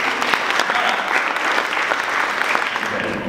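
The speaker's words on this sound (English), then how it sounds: "Everybody give them a round of applause." Steady, dense applause from an audience at a youth end-of-summer celebration, continuous and fairly loud throughout with crowd noise mixed in.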